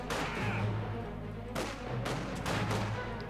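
MG-42 machine gun fire in a video game, coming as several rapid bursts of gunfire with short gaps between them, faint under a steady background roar.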